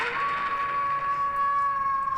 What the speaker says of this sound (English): My doorbell right now is a howling wolf.